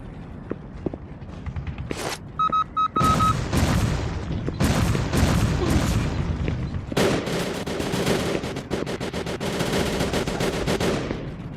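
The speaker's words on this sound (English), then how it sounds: "You guys are all shooting at a wall." Enemies fire on the player in the video game M.I.A. Mission In Asia, loud dense bursts of machine-gun and rifle fire rattling almost continuously, with brief pauses and a few electronic tones in between.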